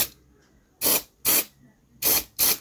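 A pump sprayer applies coating to the bolts of a Renault Twingo in four close, loud hissing bursts: two near the start and two near the end, with quiet gaps between and no voices.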